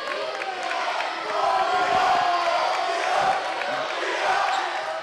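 A crowd at a women's college basketball game between UPIKE and Lindsey Wilson College cheers and shouts steadily from the stands, a loud sustained roar with a few scattered whoops.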